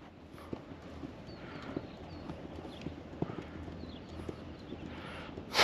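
A racehorse fresh from a race in Kuwait moves along with quick, rhythmic hoof clip-clops on hard ground, fairly faint and steady, with low background voices now and then.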